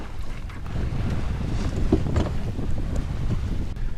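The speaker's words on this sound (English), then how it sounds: "now we're sailing along with both the Genoa and the mainsail out" Sailboat under way with both genoa and mainsail set at about four knots, steady water rush along the hull mixed with gusting wind buffeting the microphone, no voices.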